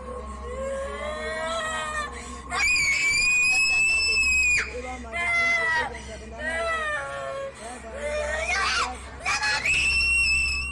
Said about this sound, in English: she continues to scream wildly